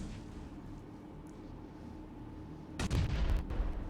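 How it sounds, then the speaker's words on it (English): A grenade detonates in PUBG Mobile during a competitive esports match, a sudden loud boom near the end that rolls into a rumbling, crackling tail over steady low background noise. "just look at the damage that second nade does"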